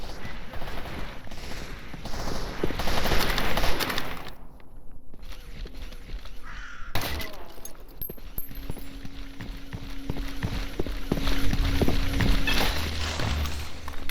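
Gunfire and combat sounds in the video game Stalker Anomaly, with intermittent shots and impacts over a busy, loud game soundscape, and a short near-silent gap partway through.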